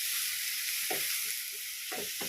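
Onion paste frying in a pan for duck curry, a steady bright sizzle with a few soft scraping stirs of the spoon partway through.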